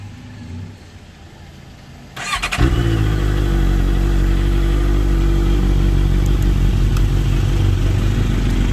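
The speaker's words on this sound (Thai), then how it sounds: "โอเคเดี๋ยวเรามาฟังเสียงเครื่องยนต์กันนะครับผม" A 2015 Honda CBR650F motorcycle engine cranks and catches, then settles into a loud, steady idle close by.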